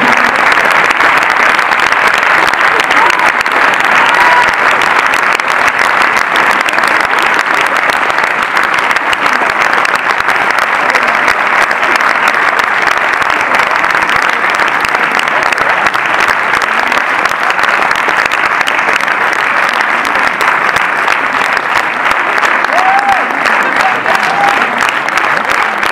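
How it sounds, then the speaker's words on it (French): Sustained, dense applause from a preview-screening audience greeting the film's cast, a steady wash of many hands clapping that holds loud and even for the whole stretch, with faint voices mixed in. "vous pouvez les applaudir tous les stars"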